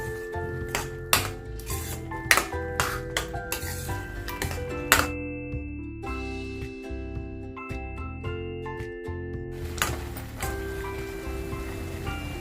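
A spoon scrapes and clinks against a pan while pumpkin halwa simmers with milk, almonds, cashews, raisins and charoli, giving irregular metallic taps and soft sizzling over a quiet kitchen backdrop.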